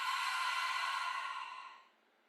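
Long breathy exhale through the mouth during a yoga breathing exercise, a steady hissing rush lasting about two seconds before tapering off, close and alone with no talk.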